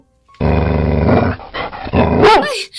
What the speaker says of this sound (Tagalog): Baka kagating kayo ng aso!